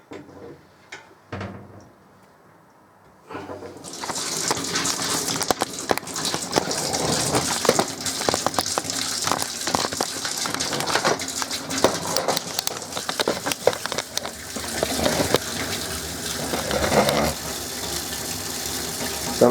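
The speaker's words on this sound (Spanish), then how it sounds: "Ahí salió agua." Water gushing steadily from a household tap boosted by a pressure booster pump, a strong continuous hiss that starts abruptly after a few quiet seconds and keeps roaring close up.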